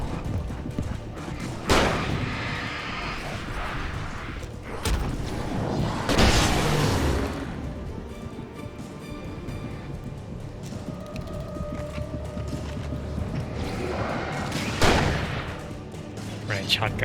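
Shotgun blasts from the video game Alan Wake sound at intervals, several booming shots spaced apart amid in-game sounds, with a voice talking over them.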